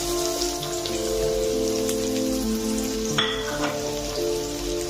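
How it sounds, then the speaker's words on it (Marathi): Cumin, curry leaves and onion sizzle in hot oil, a dense continuous crackle close by under a steady low hum, with a sharper pop near the end. "जिरं, कढीपत्ता आणि कांदा टाकणार आहे।"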